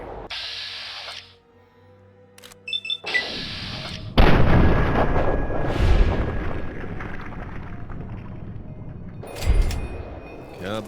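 Explosions in Fallout 3 as structures collapse, loud booming rumbles with crashing debris that swell and fade, then a fresh blast near the end.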